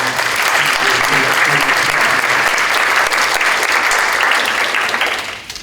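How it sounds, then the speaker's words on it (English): Sustained audience applause at a talk-series event recognizing a festival sponsor, a dense even wash of many hands clapping at steady loudness for several seconds before tapering off at the end. "please give a shout out and applause to Joan Rudnitsky."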